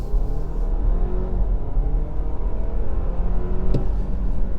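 A 2022 Audi Q5 with a 2-liter four-cylinder engine pulls out onto the road, a close, steady engine hum and low rumble from inside the cabin with a short click near the end and no voices.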